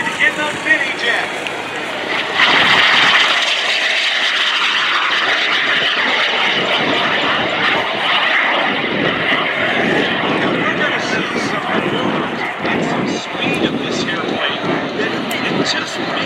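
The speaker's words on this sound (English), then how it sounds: "Here comes Tom Larkin in the Mini Jet." Tom Larkin's Mini Jet, a tiny 16-foot jet with an 18-foot wingspan, roars past at an air show, a steady engine rush that swells and fades under an announcer's voice.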